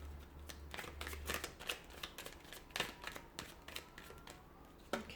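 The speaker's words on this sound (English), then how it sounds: "so we'll give the cards a shuffle" A deck of tarot cards is shuffled by hand in a quiet room, a steady run of crisp riffling flutters and soft taps going on for several seconds.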